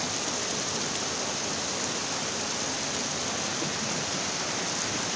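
Water from a natural mountain spring flows steadily, a dense, even hiss of running water that stays constant and close, with no voices.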